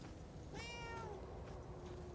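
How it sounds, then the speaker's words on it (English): A cat meows once in the video game Murdered: Soul Suspect, a short rising-and-falling call heard clearly over a steady low background hum, with no talking. "Is there a cat here?"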